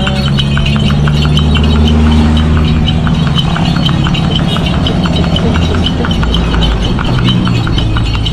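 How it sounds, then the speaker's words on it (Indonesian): A horse pulling a delman cart on a road in Bantaeng, South Sulawesi, with steady rhythmic hoof clip-clops and rattling wheels over a constant loud rumble. "Kudanya dari tadi berlari terus"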